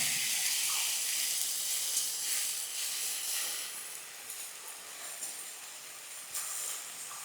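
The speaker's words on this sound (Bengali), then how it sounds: "যতক্ষণ না টমেটোগুলো না গলে ততক্ষণ কিন্তু এরকমভাবে আমাকে নাড়তে হবে।" Chopped tomatoes and onions fry in a pan while being stirred, for a Bengali fish-head muri ghonto. The close, steady hissing sizzle eases slightly toward the end, broken by a few faint stirring taps and no talking.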